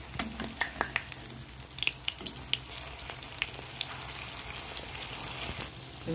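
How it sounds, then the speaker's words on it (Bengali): Round pea koftas sizzle in hot oil in a kadai for Bengali kofta curry, a continuous close frying hiss with sharp pops and a few scraping stirs or turns, without speech. "উল্টে পাল্টে ভালো করে ভেজে নেব"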